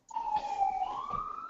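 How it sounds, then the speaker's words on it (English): Emergency siren outside a house, one steady wailing tone that slowly bends up in pitch, heard alone at moderate level through indoor walls. "Was that a siren outside your house?"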